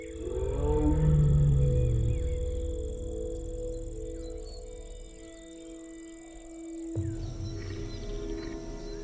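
Deep, resonant low-frequency roaring calls of a tiger rumble at first, then fade into a quiet Indian jungle backdrop of steady insect drone.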